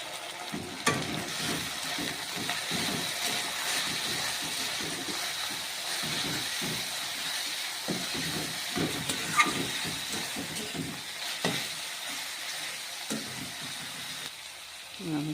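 Chow mein stir-fries in a hot pan with soy sauce and vinegar, giving a constant steamy sizzle broken by rhythmic tossing and stirring scrapes throughout.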